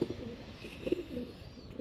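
Two newly released pigeons coo softly, a couple of brief, low murmuring calls close by against quiet background noise.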